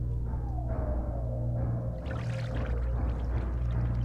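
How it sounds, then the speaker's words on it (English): Water suddenly gushes in the horror game IT MOVES: a steady, low, rumbling pour with a faint whining tone that runs the whole time. "There's just suddenly water."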